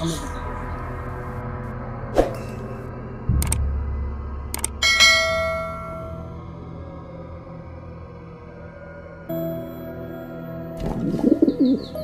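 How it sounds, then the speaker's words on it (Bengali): A pigeon coos in a forest, its soft repeated calls sounding from a distance among bell-like ringing tones, rustling and movement, with people talking nearby. "হ্যাঁ কবুতর ডাকছে কোথা থেকে?"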